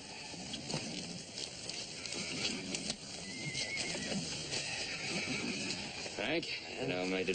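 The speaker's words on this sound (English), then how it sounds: "There's Frank Cole with his string of horses." Horses whinny amid steady clopping hooves, with a busy mix of movement and background noise throughout.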